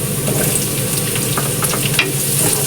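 Garlic and onion sizzle steadily in a hot pan for ginisang bihon, a loud, close and continuous frying hiss with faint stirring scrapes and no talk.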